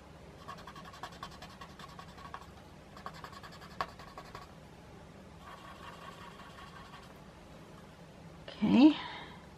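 Pencil scratching across paper in a few short bursts of drawing strokes, faint and close, with a brief louder noise near the end.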